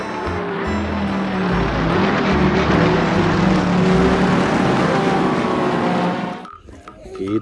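A toy Lamborghini car plays a loud, continuous electronic engine roar and racing sound that holds steady for about six seconds and then stops abruptly, followed by a brief quieter tail.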